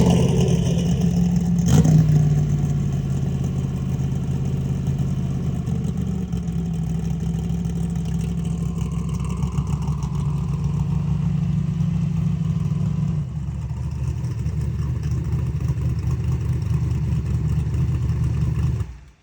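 A drag car engine idles steadily about 1,000 rpm higher than normal, a loud, continuous mid-pitched drone with a faint tick running through it and one brief louder blip near the start.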